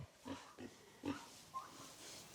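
Several short, low grunting oinks from pigs in a barn, spaced irregularly and fairly quiet, with no talking.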